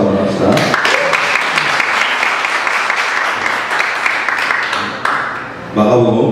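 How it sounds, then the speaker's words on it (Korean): Congratulatory applause fills a church service as the congregation claps in a loud, sustained burst for about five seconds, with talk just before and after. "축하의 박수 한번 합시다."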